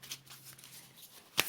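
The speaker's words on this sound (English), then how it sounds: "So let's shuffle some more." A Lightworker oracle card deck being shuffled by hand, soft papery riffles and flicks with a sharper snap near the end, close and fairly quiet, no talking.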